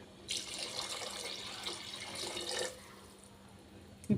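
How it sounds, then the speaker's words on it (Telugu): Water pours steadily for a couple of seconds, a close, splashing stream filling a cooking pot of sambar, then stops, followed by a brief clunk. "ఇప్పుడు ఇందులోకి ఒక వన్ గ్లాసు వాటర్ యాడ్ చేద్దామండి"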